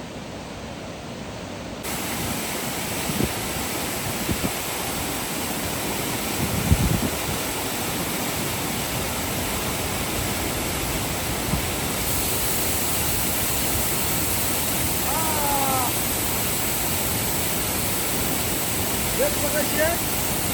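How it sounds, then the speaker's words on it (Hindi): A constant broadband rush of falling water, like a waterfall heard from a short distance, with a few faint voices and small noises in between. "झरना है पाछू"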